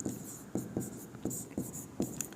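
Chalk or marker tapping and scratching on a board while an equation is written during a class 10 maths lesson, with short strokes in an irregular rhythm, quiet and close, and no talking.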